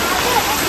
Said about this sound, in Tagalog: Naglakas na po ng agos ng tubig dahil ang lakas po ng ulan.